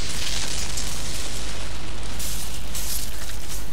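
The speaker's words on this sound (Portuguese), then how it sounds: "ele também manda uma bomba para aquele lado." A bomb thrown by an enemy in Dark Souls bursts with a loud, sustained explosive roar, a dense broadband rumble that swells again midway through and keeps going without any speech.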